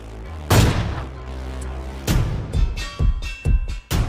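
Heavy gunfire erupts in a thug attack on a house, heard from downstairs: a loud blast followed by several more bursts in an irregular volley, with booming low-end impacts and a dense, cluttered background.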